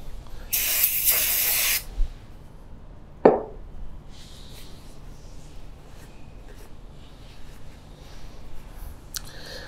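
Aerosol brake cleaner sprays from a can onto motorcycle engine cases in a loud hissing burst of about a second and a half, followed by a sharp clatter and faint shop sounds.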